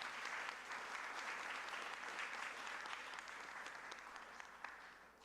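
Gala audience breaks into steady, sustained applause filling the room, a dense even wash of clapping that tapers slightly toward the end.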